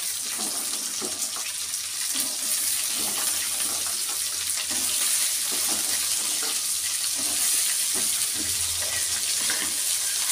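Washed raw cowpeas dropped into a hot pan and frying, a loud steady hiss and sizzle that spreads broadly and keeps an even level throughout, up close with no talking.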